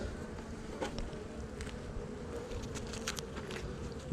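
Agitated honeybees buzz in a dense, continuous drone close by while a nuc is installed into a hive, with faint handling sounds mixed in.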